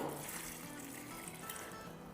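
Water being poured into an Instant Pot holding washed chana dal, a steady, continuous pouring and trickling wash at moderate volume, unbroken for the whole stretch.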